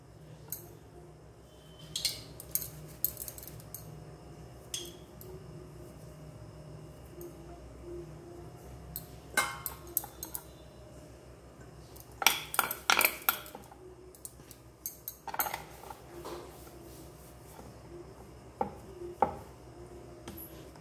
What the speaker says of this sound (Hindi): अब इसमें से हम लोई काट लेंगे।